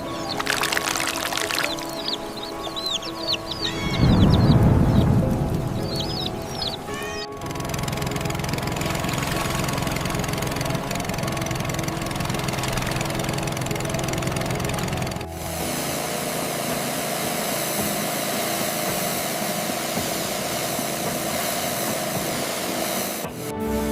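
A Zodiac inflatable boat engine idles in an AI-generated miniature rescue scene, a steady low motor drone that runs almost the entire time, joined early by a brief splashing, pouring burst and faint bird chirps.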